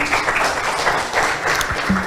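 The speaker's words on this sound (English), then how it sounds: "Please give them a big round of applause" Applause from a school debate audience fills a hall, a steady wash of many hands clapping with no breaks.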